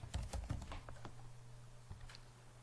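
A name being typed on a computer keyboard while filling in a Gmail sign-up form: a quick run of close, crisp key clicks at the start, then sparser taps, with no talk.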